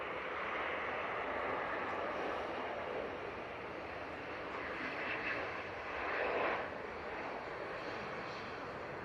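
A Boeing 737 arriving from Madrid at Manchester Airport gives a broad, steady jet roar that holds across the whole stretch and swells slightly near the end, heard from a moderate distance.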